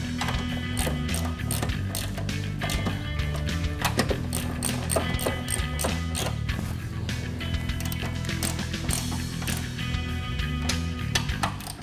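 Wrench ratcheting on suspension support plate nuts during an Air Lift air suspension install on a 1994-2004 Mustang: a steady run of fast ratchet clicks and metallic tool noise, close and continuous throughout.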